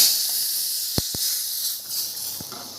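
A tadka of hing, green chilli and red chilli powder sizzles as a steady, bright hiss. A couple of sharp clicks or taps cut through near the start.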